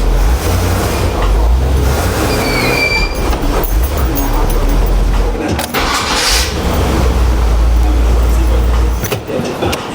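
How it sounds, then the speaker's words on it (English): A 1984 Cadillac Coupe DeVille engine idles steadily after a timing and air-fuel mixture adjustment, a loud, continuous low rumble with some clanking and a brief dip in the middle. "that's the proper idle I should have for this car"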